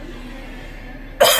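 A single sudden, loud cough near the end, breaking a low steady background hum.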